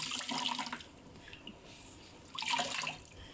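Water sloshing and splashing as a cloth bundle of grated coconut is soaked in water, two louder bursts of splashing separated by quieter trickling.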